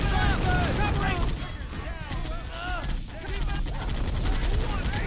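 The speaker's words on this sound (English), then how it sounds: "The artillery is still falling." Artillery fire and heavy battle noise from the video game Men of War, a dense continuous barrage of blasts and gunfire with whistling shells, loud and sustained throughout.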